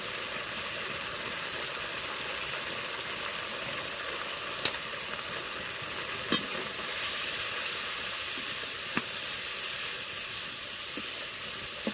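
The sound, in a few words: spices frying in oil for aloo matar paneer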